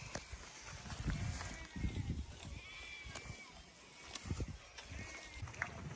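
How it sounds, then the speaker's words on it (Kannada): Sheep bleat repeatedly while grazing on sparse, dry pasture during a rainless spell, with several calls at moderate distance over steady outdoor background noise. "ಎಷ್ಟು ನಮ್ಮ ಕುರಿಗಳು ಅದಾವೆ"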